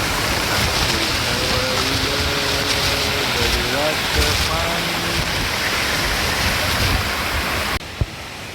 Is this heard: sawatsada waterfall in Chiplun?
yes